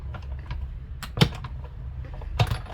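A manual die-cutting machine cranks card through for a Valentine's Day card, giving a few close clicks and mechanical creaks with two sharper clunks, otherwise quiet.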